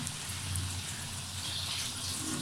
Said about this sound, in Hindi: ऑयल अब गर्म हो चुका है अब इसके अंदर हम इस टिक्कियों को डालेंगे और फ्राई करेंगे